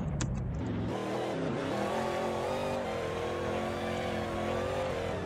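A fast drifting car in a video game, its engine revving hard and roaring steadily with gear changes and tire squeal, loud and continuous throughout with no talking.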